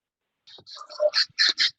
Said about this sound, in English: We've got guinea fowl and chickens in the backyard.